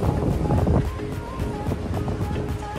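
Strong wind buffets a boat at sea, roaring steadily and close against the microphone with rushing waves underneath and no talking throughout.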